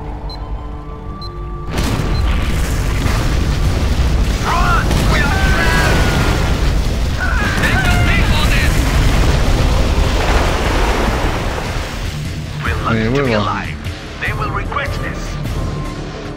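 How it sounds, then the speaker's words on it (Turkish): Bombs blasting a bridge in the strategy game Command & Conquer Generals, a sustained roaring rumble of explosions rising sharply after a quiet start and holding loud, with voices and game chatter over it. "Köprüye bomba bırakmışlar."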